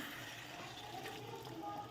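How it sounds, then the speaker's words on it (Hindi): Water pours into a pot of browned potatoes, peas and minced meat cooking for aloo matar keema, a steady sizzling and splashing wash throughout at moderate level with no talk. "तो जैसे ये अच्छे से आलू मटर भून जाएँ तो अब इसमें डाल देंगे पानी"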